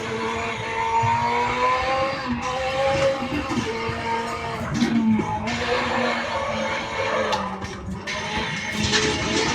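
A car drifting in the RaceRoom Racing video game: a steady, loud engine drone with shifting revs and squealing, sliding tyres runs through the whole stretch, with no voices.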